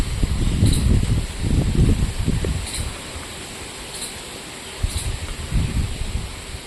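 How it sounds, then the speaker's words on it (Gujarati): Strong wind gusts across an open peanut field in a Porbandar village, buffeting and rumbling in uneven bursts, loud and close with no voices. "વાવડો બહુ મસ્તી નો આવે."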